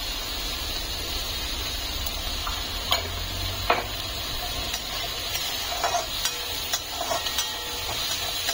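Chopped onion sautés in hot oil with salt added, giving a steady close sizzle with occasional soft clicks and scrapes of stirring in the pan.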